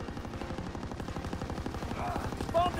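Pistol fire in an online shooter game, a continuous rapid chatter of gunshots that fills the whole stretch at steady loudness, with a brief brighter metallic ring near the end.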